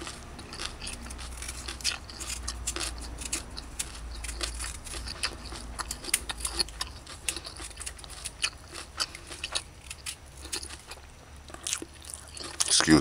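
Someone chews a piece of pickled Jamaican scotch bonnet pepper close up, giving a run of soft, wet crunches and snaps that grow denser and louder toward the end.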